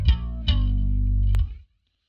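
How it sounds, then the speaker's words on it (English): Bass guitar run through the flanger effect of an MX5 multi-effects unit: two plucked notes, the second held with a swirling, sweeping modulation, then a clean cutoff into silence. "little bit of flanger."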